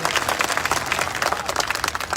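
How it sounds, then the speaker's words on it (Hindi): Crowd at a political rally in Baharampur, West Bengal applauding, a dense and steady wash of many hands clapping at moderate distance for the whole stretch. "जरा तालियां बजाकर सुकांत का स्वागत करें।"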